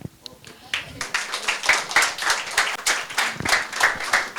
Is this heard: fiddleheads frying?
no